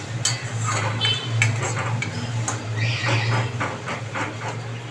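Roasted chicken kosha being stirred and sautéed in a pan, a metal spatula clanking and scraping against the pan in irregular close strokes over a low steady hum.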